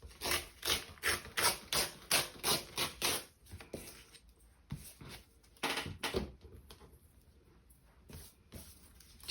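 Scissors or a trimmer cutting along the edge of a textured paper gelli print, a run of about ten quick rhythmic snips up close, then scattered quieter cuts and handling rustles.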